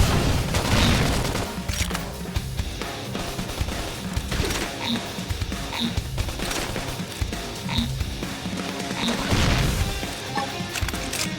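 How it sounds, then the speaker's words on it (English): A flame grenade attack in the video game Xenoblade Chronicles X: a dense, loud combat mix of crashing blasts, bangs and impacts with rhythmic hits and bright chiming accents, continuous throughout with no pause. "Take this! Flame grenade!"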